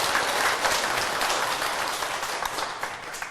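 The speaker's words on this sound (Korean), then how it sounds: "박수 부탁드릴게요." An audience at a Buddhist dharma talk breaks into sustained, even clapping, dense and loud at first, then slowly thinning out toward the end.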